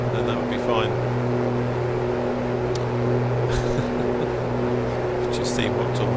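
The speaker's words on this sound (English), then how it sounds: "You can hear me, but you can hear the engine noise." A simulated A2A Aerostar aircraft's engines drone steadily with sustained low tonal hums in a Microsoft Flight Simulator flight, while a person talks over the engine noise.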